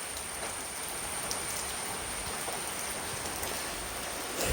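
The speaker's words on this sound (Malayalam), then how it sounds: "ഞാനിവിടെ മഴ നനയുന്നുണ്ട്." Rain falls steadily outdoors, a close, even patter and hiss with scattered distinct drops, moderately loud and uninterrupted from start to finish.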